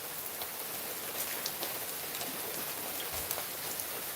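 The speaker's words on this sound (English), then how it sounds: "You see the hail?" Hail falling outdoors, a dense, even patter of hits on surfaces that keeps going steadily throughout, heard from nearby with no voices.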